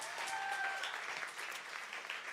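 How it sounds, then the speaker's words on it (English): An audience claps for the pianist at a live swing band concert, a dense even patter of applause filling the whole stretch at moderate volume. "Round of applause for Chris at the piano."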